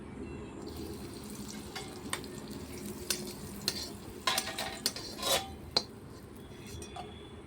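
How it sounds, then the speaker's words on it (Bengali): Cashews and raisins fry in hot ghee in a pan on a clay stove, with a low, steady sizzle broken by sharp clinks and scrapes of a spoon stirring against the metal. "ঘিটা দিয়ে আমি কাজু কিশমিশটা ভেজে নেবো।"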